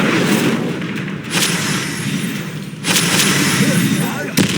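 A fiery Incendio spell in Hogwarts Legacy combat, whooshing bursts and booming blasts over a roaring, crackling backdrop, with a sharp pop near the end.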